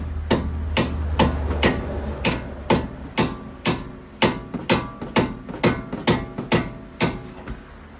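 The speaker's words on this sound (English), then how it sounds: "I need to use a hammer." A hammer strikes metal repeatedly while a bolt is driven in during a front strut replacement on a 2005-2010 Chrysler 300, about fifteen sharp, close blows in an uneven rhythm that quickens toward the end.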